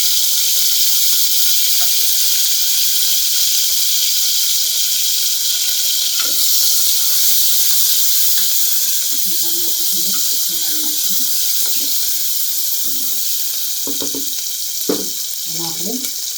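Curry leaves and chopped coriander sizzle in hot oil for a dal tadka, a steady broad hiss throughout with brief louder crackling bursts toward the end; a voice speaks faintly at times.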